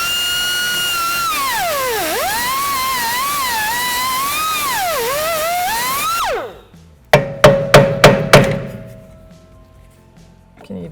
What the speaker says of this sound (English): I'm just gonna cut a little V mark in this caliper.